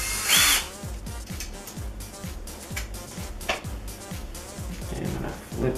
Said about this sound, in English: Then I unscrew this.